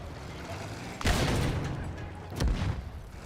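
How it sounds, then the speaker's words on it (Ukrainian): Artillery and gunfire rage in the World War I shooter Battlefield 1, with two heavy blasts about a second apart standing out from a constant loud battle din. "Дивіться, артилерія гнобить нас."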